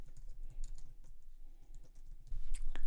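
Typing on a computer keyboard, a quick run of close, light key clicks with a few louder taps near the end and no talking.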